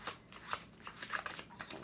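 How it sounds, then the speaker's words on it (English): Playing cards are shuffled by hand in a quiet room: faint, quick riffling and soft slaps in an irregular rhythm, close by. "just shuffle this one up as well"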